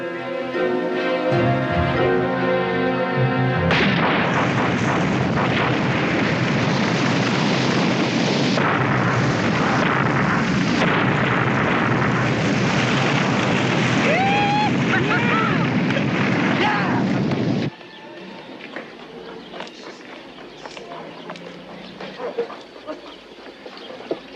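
A chain reaction of dynamite explosions set off by a rifle shot in a 1988 war film roars as a long, loud, continuous rumbling blast. It then drops to a lower, crackling aftermath with no talking.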